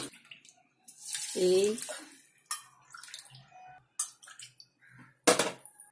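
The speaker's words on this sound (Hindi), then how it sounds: "3 कप पानी डाला है।" Water poured from a cup into a pan on a gas stove while stuffed eggplants are cooked for bharva baingan: a short, gushing splash around the middle, then a clatter and a voice speaking.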